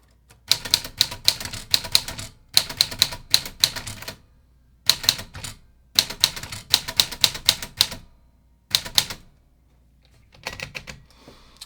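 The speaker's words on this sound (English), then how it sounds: "that's the typewriter" A 1940s Smith Corona Sterling manual typewriter being typed on, rapid crisp key strikes in bursts of a second or two separated by short pauses, close and loud, with no voices.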